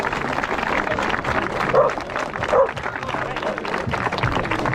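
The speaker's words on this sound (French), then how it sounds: "je pense qu'on peut les applaudir bien fort" An outdoor crowd at a 9 km trail race by lac de la Thésauque claps loudly and continuously for the organisers, with a few whistles and shouts and a dog barking briefly in the mix.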